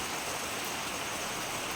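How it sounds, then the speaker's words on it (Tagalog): Heavy rain falls at an outdoor hangout spot as a dense, steady wash of noise, constant and unbroken, fairly soft in level, with no voices. "Ang lakas ng ulan."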